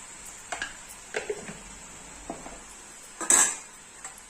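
A spoon stirs munga bhaji (drumstick leaves) in a pan over the flame, giving intermittent metallic clinks and scrapes spaced a second or so apart over a faint, steady background sizzle, close up with no talking.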